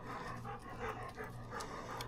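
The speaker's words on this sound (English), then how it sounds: "Sorry if you guys hear my dog panting." A dog pants quietly nearby in quick, steady breaths, faint and close.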